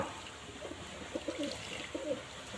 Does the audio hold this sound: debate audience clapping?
no